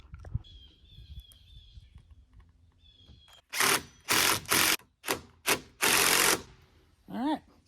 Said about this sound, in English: Now I'm gonna run some 3-inch screws on the outside with big fat washers.